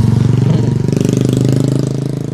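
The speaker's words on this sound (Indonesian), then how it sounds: "ini suara motor di belakang gue cukup kenceng banget" A loud motorcycle engine runs close behind on an outdoor street, its steady, throbbing low drone holding for the whole stretch with no talking.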